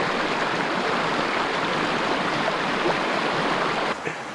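Outdoor creek flowing on a chilly day, a steady broadband rush of running water filling the whole clip at moderate level, with a brief faint knock near the end.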